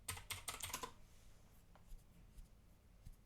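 Fingers type on a computer keyboard, a quick cluster of clicky keystrokes at the start followed by a few sparse, quieter taps over soft background noise.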